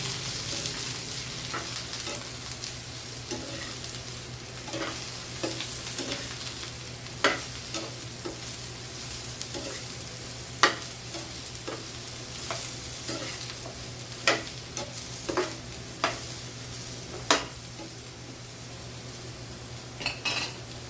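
Eggplant sautés and sizzles steadily in a home-cooking pan, with repeated sharp clinks of a spatula or spoon stirring against the pan at irregular intervals; no voices.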